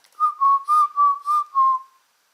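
A small toy party whistle gives six short, bright blasts in a quick even rhythm, close and loud, then stops into silence.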